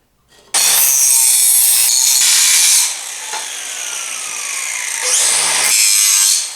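Grinding on a steel turbo merge pipe, a loud, harsh abrasive whine in two long bursts with a short quieter pass between them, close and with no voices.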